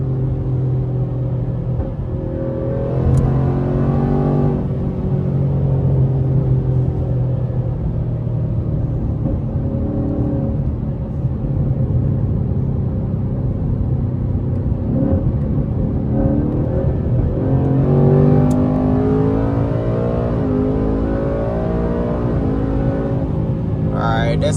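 A Ford Mustang S650 on Nitto NT05 tires drives from the cabin, its engine rumbling, rising and dropping through gear changes, with a couple of sharper surges. A voice speaks in between.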